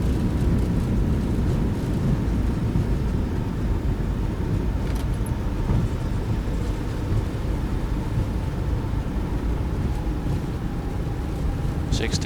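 Steady, broad engine roar from a Boeing 737-900 deploying reverse thrust while landing in Microsoft Flight Simulator 2020, a constant loud rushing noise holding level throughout with a faint tonal hum beneath.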